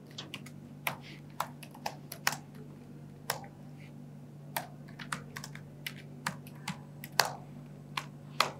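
Close, fairly quiet typing on a computer keyboard, irregular individual key clicks spaced a fraction of a second apart over a low steady hum, with no talking.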